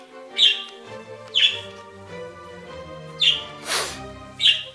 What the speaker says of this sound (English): My birds say hello again.